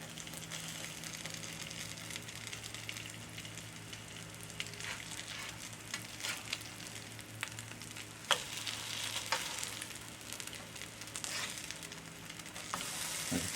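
Tuna patties fry in a hot skillet with a continuous crackling sizzle and scattered pops and spatters throughout, fairly quiet and steady.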